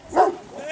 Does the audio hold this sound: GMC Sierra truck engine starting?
no